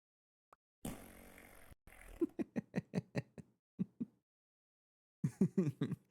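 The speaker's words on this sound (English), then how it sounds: "I haven't heard those fart noises in a while" Fart noises from the Gregtech New Horizons game play as a burst of short, low, sputtering blasts in quick succession, then a second cluster after a pause, close and fairly clean.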